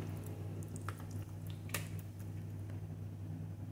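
Fish pieces coated by hand in masala paste for a fish fry: soft, wet squishing and sticky smacking, faint and close over a low steady hum.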